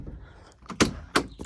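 A plexiglass door on an Intimidator diesel UTV swings shut, giving two sharp close thuds about a third of a second apart, followed by a lighter knock, up close with no talking.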